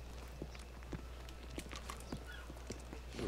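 A horse walks at a steady clip-clop pace in the modded video game Red Dead Redemption 2, its hooves thudding in a regular rhythm, fairly quiet and with no talk over it.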